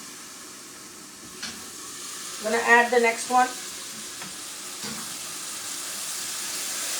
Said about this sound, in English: you'll see that there are sizzles and geysers in the middle